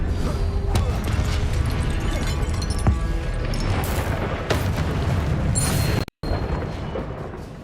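Repeated booming fire-spell blasts and crashes in the Hogwarts Legacy video game, loud and dense with rumbling low end throughout, briefly cut to silence near the end.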